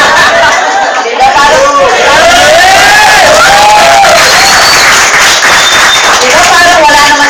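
A crowd claps and cheers loudly at a product presentation, the applause blending with chatter and babbling voices throughout.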